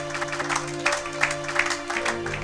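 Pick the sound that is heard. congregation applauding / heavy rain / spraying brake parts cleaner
congregation applauding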